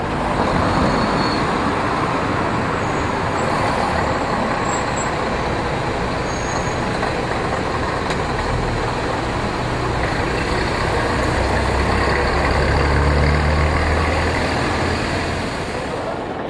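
A London RTL double-decker bus, RTL 139, on Church Road in Potters Bar. Its engine makes a steady, loud rumble that goes on for the whole clip, with a low growl that swells near the end.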